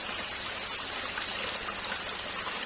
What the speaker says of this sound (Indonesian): karena ini memang sungai ya